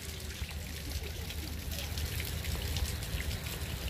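Water pouring from a stone spout at Balaju park, a steady soft splashing and trickling wash heard at moderate distance with faint background activity.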